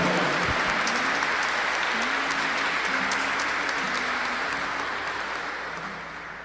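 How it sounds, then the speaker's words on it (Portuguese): A congregation applauds during a church Mass, a steady wash of clapping in a reverberant space with a low organ or instrument tone sustaining underneath, fading slightly toward the end. "Vamos aplaudir a palavra do nosso Deus para a nossa salvação."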